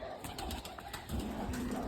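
A pigeon sitting on a net coos softly nearby, a low throaty call rising in the second half over faint background noise.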